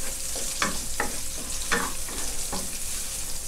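Shiitake mushrooms frying in a pan, a steady broadband sizzle with several distinct scraping stirs of a utensil against the pan, close and alone without voices.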